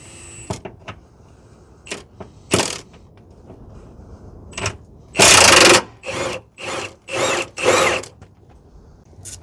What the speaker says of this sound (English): So we're going to loosen up the bolts.